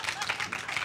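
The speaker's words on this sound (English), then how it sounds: "Got some cheering for that." Audience at a retro gaming expo panel at Play Expo 2020, giving a brief burst of cheering and clapping that blends into crowd noise.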